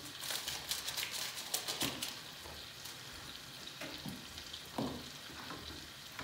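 A spoon stirs a pudding mixture of cream and vanilla in a pot, giving soft, irregular scraping and swishing strokes that are faint and close.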